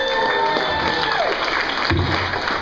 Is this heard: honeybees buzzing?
no